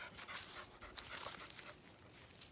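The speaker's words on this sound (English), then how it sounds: "We're about to introduce a German Shepherd puppy to a Golden Retriever puppy." German Shepherd and Golden Retriever puppies pant steadily at close range for a few seconds, with a faint whimper and light rustling underneath.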